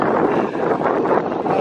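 Outdoor wind on a sunny day buffets the microphone as a continuous, loud broadband rush with slight gusting swells, and no voices are heard.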